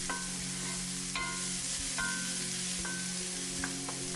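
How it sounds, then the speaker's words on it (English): Aromatics hit hot avocado oil in a pan for a quick stir-fry. A steady close sizzle runs throughout, with several sharp spatula clacks against the pan at roughly regular intervals and no voices. "Add your aromatics to the pan and stir for 5 seconds."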